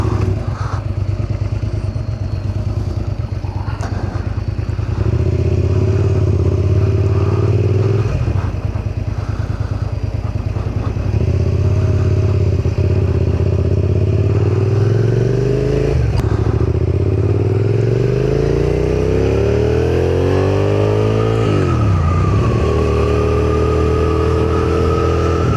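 A Suzuki SV650 naked middleweight motorcycle engine runs steadily close by, then revs up and down in a few rising and falling sweeps, loud and continuous with no talking.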